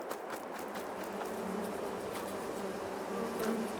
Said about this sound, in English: You can hear the bees.